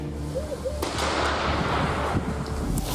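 A loud explosion bursts in after a brief voice, followed by a sustained roar of blast noise and rumbling debris that fills the rest of the moment.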